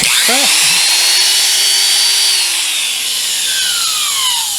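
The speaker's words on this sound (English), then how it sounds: "This is an electric die grinder." An electric die grinder bought at an estate auction spins up with a rising whine, then holds a loud, steady high-pitched motor hum that slowly winds down near the end.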